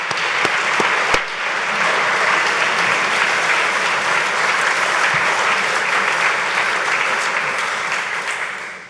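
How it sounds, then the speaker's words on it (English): A conference audience applauds its speakers with dense, sustained clapping that stays loud and even for the whole stretch before tapering slightly at the end. "maybe a round of applause for all of the speakers today would be really good"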